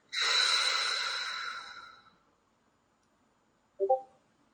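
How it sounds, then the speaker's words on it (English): A single long, audible exhale during a guided deep-breathing exercise, a breathy rush fading out over about two seconds, followed after a pause by a brief short vocal sound. "So take a deep breath in and hold."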